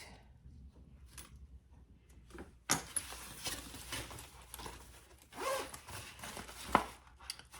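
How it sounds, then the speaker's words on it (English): Zipper pocket on a sewn triple-zip crossbody bag being closed, with a few quiet, short zipping pulls and soft fabric rustles up close. "close off our zipper"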